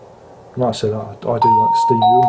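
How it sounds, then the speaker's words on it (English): A two-tone electronic doorbell chimes clearly indoors, ringing over a man's ongoing speech. "that is the doorbell to tell me that the Misses and the Sprogs have come back"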